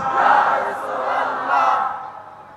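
A large gathering at an Eid-e-Milad-un-Nabi sermon roars a loud, sustained takbir chant in unison, a swelling wall of massed voices that rises twice before fading.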